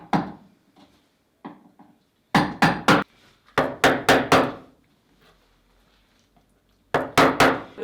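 A hammer taps sharply while carving, in quick bursts of three or four close, crisp strikes separated by pauses, plus a few lighter single knocks.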